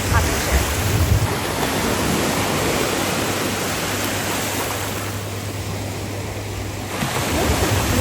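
Gentle ocean waves wash onto a clear-water beach in a steady, soft rush of surf, with some wind buffeting the microphone and no voices.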